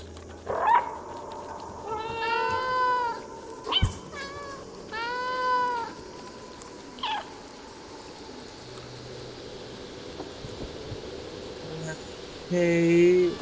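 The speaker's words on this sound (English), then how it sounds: "I guess we're just gonna follow these cats." Several cats in the video game Stray meow repeatedly in short, wavering cries that come in clusters, fairly close, over a low ambient hum, with a final louder meow near the end.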